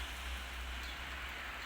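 Rain falls steadily on a cold winter day in Spain, near freezing, where pigeons shelter. A continuous even hiss of rain holds at the same level throughout with no voices.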